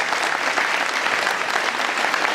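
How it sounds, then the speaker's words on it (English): Steady, dense applause from an audience honoring cultural performers, sustained and fairly loud throughout with no break. "Please give a big round of applause to all our performers."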